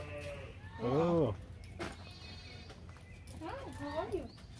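A goat bleats at a petting zoo, two wavering nasal bleats about three seconds apart, moderately close over outdoor background noise.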